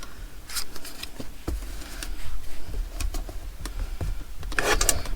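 Scissors trimming a cardboard toilet paper roll for a junk journal craft, giving sharp snips and crunching cuts at an irregular pace, close and fairly loud with rustling handling between cuts.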